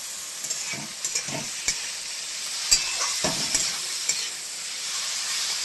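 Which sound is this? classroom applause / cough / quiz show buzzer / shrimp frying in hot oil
shrimp frying in hot oil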